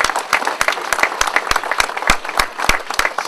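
A school audience applauds the director with a lively burst of many hands clapping close by. The clapping is dense and steady and goes on without a pause.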